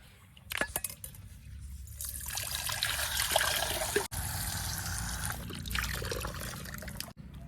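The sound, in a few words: water being poured into a pot for cooking Maggi noodles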